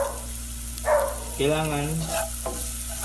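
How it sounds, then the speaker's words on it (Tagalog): Pork tenderloin sizzles and crackles steadily in a hot pan while people talk over it, with the frying hiss continuing throughout. "Fry natin ito. Fry mo dyan."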